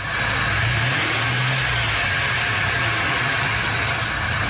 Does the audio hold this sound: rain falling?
no